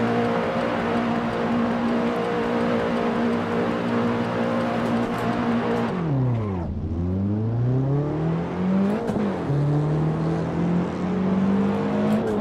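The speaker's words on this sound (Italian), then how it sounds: "Sentite che suono che ha. Sentite, sentite che sound." A BMW engine in a racing video game drones steadily, then drops sharply in pitch and climbs again as it revs back up, loud and continuous with a synthetic game-like tone.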